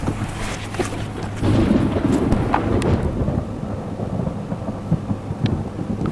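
A heavy thunder strike rumbles low and loud through steady rain and wind, rolling on for several seconds before fading into a dull roar.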